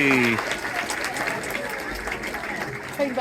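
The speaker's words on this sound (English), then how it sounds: "Give him a cheer." A crowd at a sea lion show cheers and applauds for Callum the sea lion, a broad, steady wash of clapping and voices after a brief spoken line at the start.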